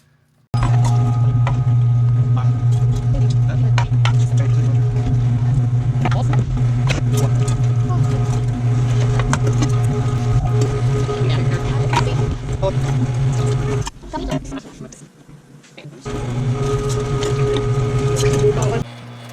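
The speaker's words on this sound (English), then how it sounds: "the last bit of venison is going through the grinder" An electric meat grinder works through venison with a steady, loud mechanical drone that holds for most of the time, briefly dropping off near the end before resuming, with people talking over it.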